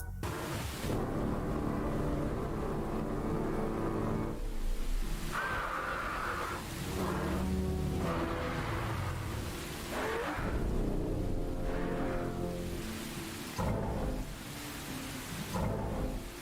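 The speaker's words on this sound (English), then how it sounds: "it kind of sounds like the rain audio when there's no rain, which is kind of weird, but I think that's a bug" Steady rain ambience with low rumbling, apparently a glitched rain sound playing in clear weather in the Roblox game Era of Terror, continuous and fairly loud throughout with no talking.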